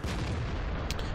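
A tank cannon fires in the video game World of Tanks with a sharp, booming report followed by a rolling low rumble, loud and close, with a brief crack near the end.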